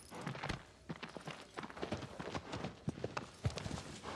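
Horse hooves clip-clop on the ground in the video game Shadow of the Colossus, a brisk, fairly regular run of sharp thuds at a walking-to-trotting pace, close and clear and heard alone.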